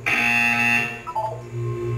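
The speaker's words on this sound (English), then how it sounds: "You will hear a buzzer." A loud electronic buzzer blares steadily in the Portal 2 video game, a harsh tonal drone that holds and shifts pitch slightly for about two seconds with no one talking.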